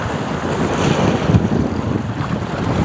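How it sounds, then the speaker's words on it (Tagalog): Strong waves surging against the rocky baywall at Bañadero baywalk in Tanauan, Batangas after the monsoon, a continuous rushing wash of surf mixed with heavy wind buffeting the microphone, close and loud. "Lakas ng alon."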